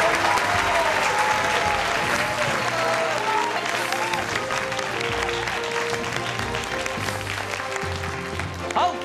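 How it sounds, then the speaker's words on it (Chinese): A studio audience at a televised quiz show applauds steadily and loudly, sustained clapping throughout while background music with tonal lines plays underneath. "我们掌声欢迎我们的卫冕者"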